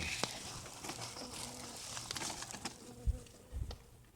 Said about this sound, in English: Okay, it was just a bee.